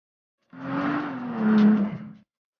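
A classic car's engine revs in one rising, sustained roar lasting under two seconds, loud and close, building to a peak before cutting off abruptly, with no talk.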